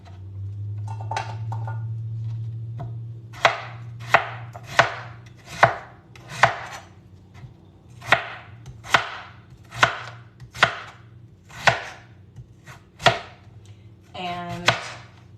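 A knife chops through plant-based egg pieces coated in potato starch on a cutting board, a steady series of crisp, close thuds spaced about a second apart, with a low hum underneath.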